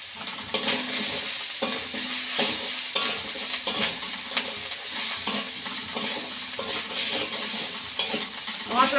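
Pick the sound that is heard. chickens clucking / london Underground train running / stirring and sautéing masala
stirring and sautéing masala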